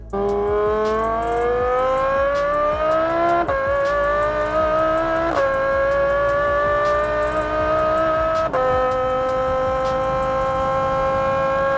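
A Lamborghini Huracan STO fitted with an F1-style exhaust screams around a track, a loud, close, high-pitched wail rising through the gears with crisp shift breaks and a held top note; no voices.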